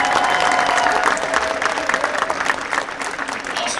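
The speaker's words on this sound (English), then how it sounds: "let's give him a big round of applause" An audience at Bandfest Two, a band concert at Pasadena City College, gives a steady, dense round of applause that fills the room at full strength from start to finish, with faint crowd noise mixed in.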